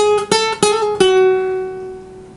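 A clean guitar plays a short phrase of a few plucked notes with smooth hammer-on and pull-off changes, the last note ringing out.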